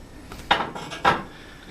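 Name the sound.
ladling French onion soup into bowls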